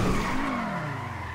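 A sports car engine in GTA 5 roars steadily, its pitch sliding lower as it holds a loud, continuous drone with a slight tire-squeal edge.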